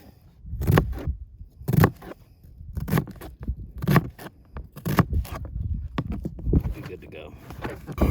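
An onion sliced with a knife near the root while cooking at camp, making a series of about seven crisp, evenly spaced cuts close by, with faint speech.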